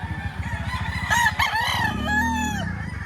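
A four-year-old rooster at the Padre Garcia livestock auction market crows loudly and close by, a long drawn-out call rising and then trailing off, with other clucking fowl sounds around it.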